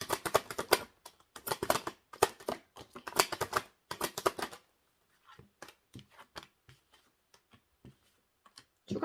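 Tarot cards being shuffled by hand, rapid crisp riffling bursts in a steady rhythm, close and clear, thinning into sparse soft taps and flicks.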